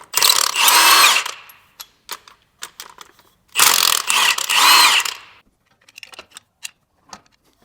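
Bolts on the back side of a transmission bell housing being loosened with power tools in two long whirring bursts, followed by sparse ratchet clicks and clinks of metal tools in a garage, with no talking.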